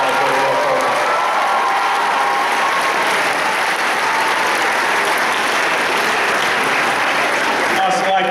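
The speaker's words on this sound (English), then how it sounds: "Let's give him a big round of applause." Loud, sustained applause and cheering from an audience honoring a film editor, a dense continuous wash of clapping with scattered shouts throughout.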